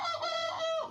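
A chicken clucks once in a short drawn-out call, close and clear against a quiet background.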